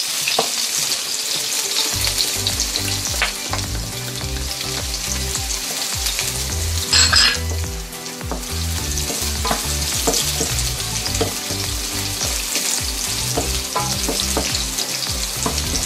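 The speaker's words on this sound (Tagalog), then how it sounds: "So, igisa lang natin siya. Mag-saute lang tayo." Chopped onion and garlic sauté in a hot pan for a beef kaldereta, giving a steady, loud sizzle with stirring scrapes throughout and no talking.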